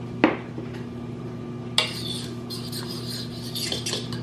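Fork clinking against a bowl while milk is stirred into pancake batter, two distinct taps followed by soft scraping and light stirring, close and alone.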